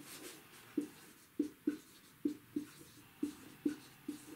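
Writing on a board, a series of faint, evenly spaced scratchy strokes, about a dozen short taps and scrapes in a quiet room.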